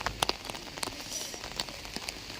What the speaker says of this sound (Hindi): ठीक ठाक बारिश हो रही है